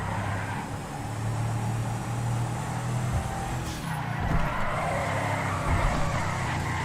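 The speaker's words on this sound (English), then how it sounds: "This is how the standard BJ sounds." Standard BJ car engine from a GTA video game, a steady low idle drone with a sustained hum, close and continuous for several seconds with no talking.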